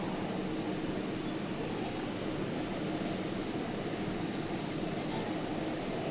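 A boat engine drones steadily and loudly throughout, a continuous broadband rumble mixed with rushing water, with no talk over it.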